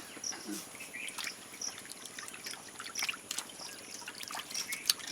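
Water trickles and splashes in a bucket as a hilsa fish is washed before cutting, a steady close sloshing with small drips and light knocks, no speech.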